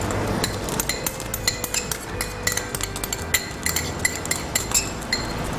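Bruneian curry paste being stir-fried in a pan for a sambal egg dish: a spatula clinks and scrapes against the metal in quick, irregular taps over a low, steady sizzle, close by with no talking.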